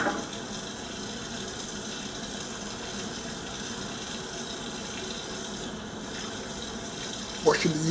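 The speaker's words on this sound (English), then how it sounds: "Washing the utensils" Tap water runs steadily into a sink while utensils are washed, a continuous close splashing gush with a brief clatter near the end.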